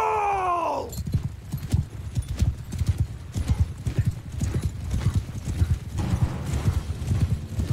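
In the video game Mount & Blade II: Bannerlord, a short whinny opens, then fast, heavy hoofbeats of galloping horses pound in a steady rhythm, loud and close, continuing to the end.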